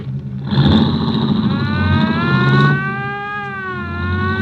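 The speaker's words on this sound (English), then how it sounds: "Turn off that siren, huh?" A loud wailing police siren in a 1949 radio drama rises and falls in pitch close by, sustained over a low rumbling engine, with no talking.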